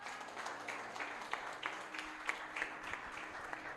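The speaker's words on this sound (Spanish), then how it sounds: "Denle un aplauso a ese hombre." A church congregation applauds, a fairly quiet, even wash of clapping heard from across the room with a few sharper claps standing out.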